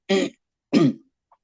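A person clears their throat twice in quick succession, close and dry, with a brief pause between the rasps and nothing else around them.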